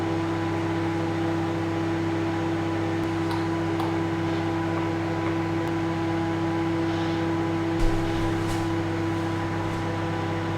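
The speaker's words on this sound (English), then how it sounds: "I've got the noisiest microwave in the world." A very noisy microwave oven runs continuously with a loud, steady mechanical hum and fan-like drone, close by, with a faint click partway through and no voices.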